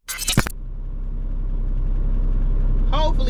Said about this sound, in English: hopefully y'all can hear me over this truck running